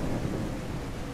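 Steady, unbroken rain wash fills the soundscape of the London-set horror game Beyond Hanwell, a dense even hiss with a low rumbling undertone and no voices over it.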